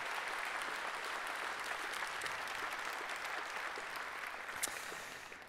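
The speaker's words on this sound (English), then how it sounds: "Please give an applause." Audience applause at a tree-planting inauguration ceremony for Södra Cell's Värö mill, steady dense clapping from a sizeable crowd that holds throughout at moderate distance and fades slightly at the end.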